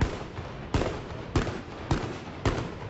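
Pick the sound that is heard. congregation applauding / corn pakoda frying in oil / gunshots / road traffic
gunshots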